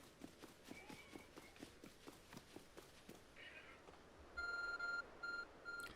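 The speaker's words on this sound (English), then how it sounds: "There's a glowing, beeping object over there." A glowing object in Pokemon Legends Arceus sends out short repeated electronic beeps in a steady pulsing pattern, following a run of quick footsteps.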